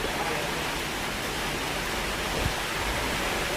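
Rain falls outdoors in a steady, dense wash of noise that stays even throughout, with a brief soft knock partway through.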